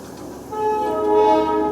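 Darjeeling toy train pulling away from Batasia Loop, its horn sounding a sustained steady tone over a low rumble of the moving train, nearby and fairly loud.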